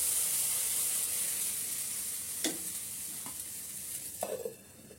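Rice batter for chitoi pitha sizzling in a hot pan: a steady, close hiss of frying, with a couple of brief sharper crackles near the end, no talk.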